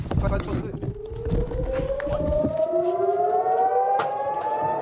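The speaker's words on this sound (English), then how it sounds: "Sirens wail as a barrage of rockets streaks towards Israel from Lebanon." Civil defense sirens wailing in Kiryat Shmona, northern Israel, during a rocket barrage from Lebanon, a loud rising tone climbing steadily over several seconds amid busy street noise and movement.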